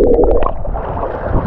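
People plunge into the cold Baltic Sea, with loud close splashing, churning and gurgling water filling the whole moment.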